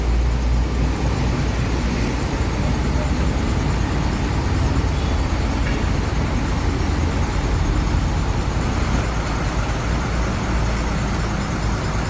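Steady, loud rumble of a departing Harapan Jaya intercity bus engine with broadband traffic noise, continuous throughout, close by and without speech.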